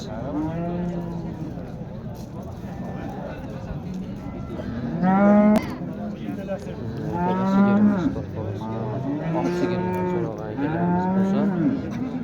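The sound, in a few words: cows mooing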